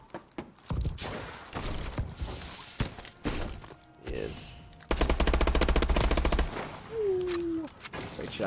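Gunfire in a search-and-destroy video game match, with sharp single shots and a sustained rapid automatic burst midway, plus glass-like shattering and other game effects, loud and close.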